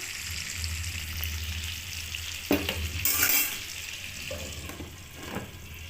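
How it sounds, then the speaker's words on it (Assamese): Fish frying in oil in a wok, a loud close sizzle throughout with a sharper burst of crackling partway through and some stirring scrapes. "প্ৰথমে মই মাছখিনি কেৰাহীত দি ফ্ৰাই কৰি ল'ম।"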